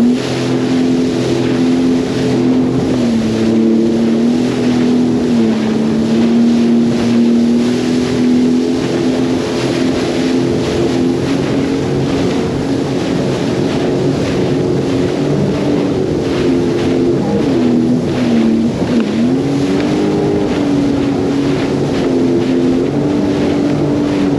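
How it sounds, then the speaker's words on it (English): The large engine of the ship Federal Indiana drones steadily with a low, humming tone as it pulls away onto Lake Erie, accompanied by wind buffeting the microphone. "Engine's really starting to kick in now, ready for it to pull away onto Lake Erie."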